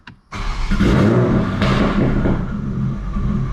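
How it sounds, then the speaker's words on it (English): A modified Toyota Supra with a big turbo and custom fuel system cranks and fires up, a short starter burst then a loud rumbling idle that flares briefly and settles, close by, with no talking. "So we'll start the car."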